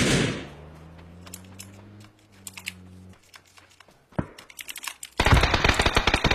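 Gunfire in a shooting video game: a few sharp shots and bursts arrive late, ending in a loud dense volley, after a low droning hum, with no talk.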